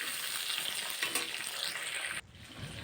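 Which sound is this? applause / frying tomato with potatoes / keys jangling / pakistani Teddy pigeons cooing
frying tomato with potatoes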